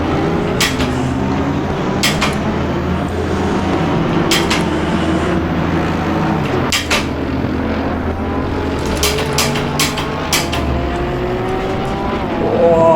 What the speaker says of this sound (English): Those Bentleys sound absolutely amazing.